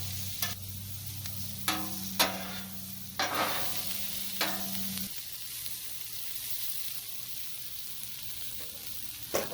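Peppers and onions sauté in a pan for an Italian pork rib sandwich. A steady sizzle runs throughout, broken by several sharp scraping stirs and clinks of the utensil against the pan. A low hum sits underneath, and no one speaks.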